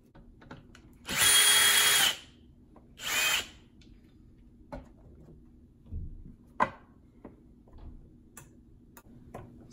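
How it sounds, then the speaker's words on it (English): A power drill whirs in two short bursts while removing bolts from a 47RE transmission valve body, followed by scattered clicks, taps and clinks of small metal parts being handled. "So pretty much just gonna start unscrewing everything and seeing what we got"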